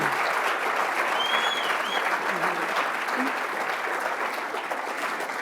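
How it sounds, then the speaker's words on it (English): Sustained, dense applause from a conference audience for an expert panel at the Growing Global 2025 panel discussion, steady and close without a break for the full length, with no talking over it. "Can we please get a big round of applause for our expert panel today?"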